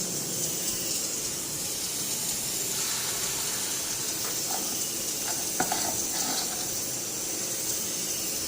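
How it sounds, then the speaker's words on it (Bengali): Fritters fry in a pan of hot oil seasoned with salt and turmeric, giving a steady, close sizzle and hiss with faint stirring clicks and no talking. "এখন বড়াগুলি ভাজা নিই।"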